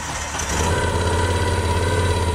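A beginner's motorcycle fires up and settles into a steady idle, a loud, close, continuous low engine rumble with no talking.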